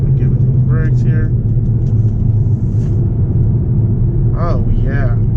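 Mazda 3 fitted with Corksport big brakes and strut tire braces, driving steady with a loud continuous engine and road rumble throughout; brief voice-like sounds appear over the drone.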